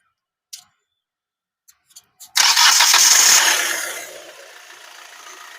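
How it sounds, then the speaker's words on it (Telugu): A 2019 Hyundai Creta 1.4 E+ car starts with a few faint clicks, then a loud burst of engine cranking that catches and settles into a steady, quieter idle, close by with no talk. "ఇప్పుడు గాడి స్టార్ట్ కన్నా."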